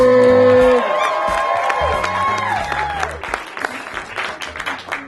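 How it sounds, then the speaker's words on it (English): An audience applauds a competitor at a live event. The clapping comes in loud over a fading sung or musical tone and carries on as a dense, steady burst of hand claps mixed with crowd noise. "Continue to applaud for me!"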